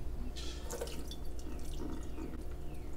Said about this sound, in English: So now I'm going to drain this.